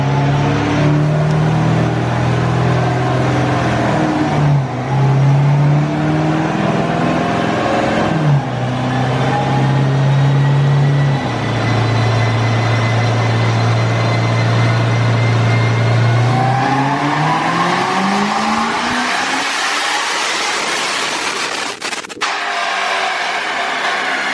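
A 2009 Cadillac CTS-V running E85 makes a loud dyno pull, its V8 droning through several rising stretches with brief dips as the revs climb, then cutting off and fading.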